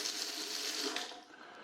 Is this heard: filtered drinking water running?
yes